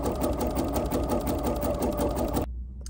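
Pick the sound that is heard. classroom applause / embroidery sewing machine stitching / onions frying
embroidery sewing machine stitching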